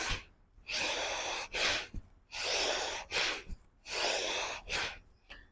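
Forceful Bhastrika pranayama breathing comes in loud, rhythmic rushes of air, each long exhale followed by a shorter sharp one, repeating three times close to the mic without speech.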